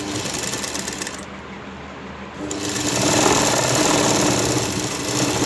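A sewing machine stitches the joining strips onto a Banarsi kalidar lehenga waistband, a steady close whirring run that eases briefly, then resumes louder and more rapid.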